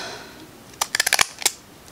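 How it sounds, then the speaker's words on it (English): EK Tools scissors snip through material at close range, with a quick run of six or seven sharp crisp cuts followed by one more snip, in an otherwise quiet room. "I just bought these scissors too. These are the EK tools."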